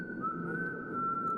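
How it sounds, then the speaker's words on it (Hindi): A man whistles one sustained, steady tone for about a second and a half, loud and close over a low background murmur, in a tense scene from the Telugu action film Bhagavanth Kesari. "सीटी बजा रहा है।"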